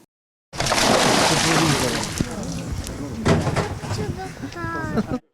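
Silver carp are released into a lake in Rivne, and water splashes and sloshes heavily as the fish hit the surface, with a voice talking over the sustained splashing.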